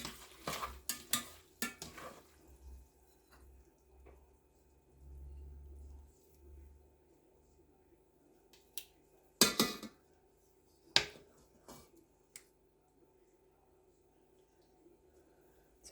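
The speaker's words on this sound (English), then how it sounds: "so we're going to plate everything now" Plates and cutlery clinking while spaghetti and meatballs are served, sparse bright clatters and taps spread over a quiet room, a couple of louder knocks midway.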